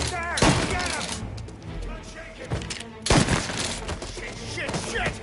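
A gunfight in Mafia Definitive Edition brings scattered bursts of shots and impacts, with a sharp crack near the start and another heavy burst about three seconds later, under excited shouting.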